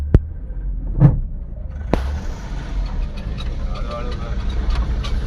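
A car engine runs at a steady low hum while being driven home through a village, with a couple of sharp knocks near the start and faint voices in the background.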